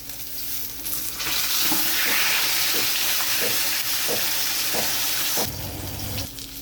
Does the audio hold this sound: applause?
no